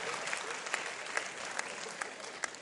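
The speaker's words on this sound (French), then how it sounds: "Applaudissez pour les enfants de Sabalibougou." Brisk applause for a group of children at a comedy show, many hands clapping together in an even patter, with a few sharper claps standing out at regular intervals.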